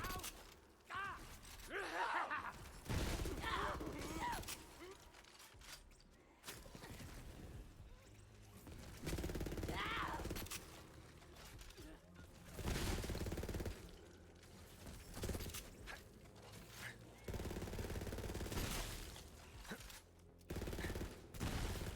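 Heavy cannon and gunfire in the Borderlands 3 shooter, with loud, repeated bursts and booming shots across the whole stretch, along with mechanical clanks, and no talking.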